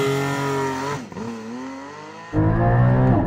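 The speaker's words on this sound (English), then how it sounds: "Just left on the brake, full throttle. All the revs." A Porsche Cayman GT4 engine roars at high revs during a full-throttle launch, dips briefly, then surges back loud and close as the throttle is floored.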